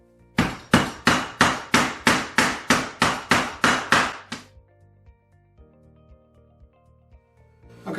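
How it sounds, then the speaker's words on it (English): A kitchen hammer pounds garlic cloves covered by plastic on a cutting board, eleven loud, evenly spaced blows in quick succession, followed by quieter clatter and light handling. "use a kitchen hammer and just go over and smash each"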